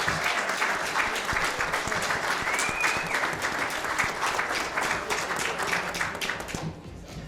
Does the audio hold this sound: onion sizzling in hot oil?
no